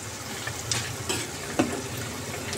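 Balushahi frying in a pan of oil over a very slow flame, a steady soft sizzle throughout with a few faint pops and bubbles, no talking.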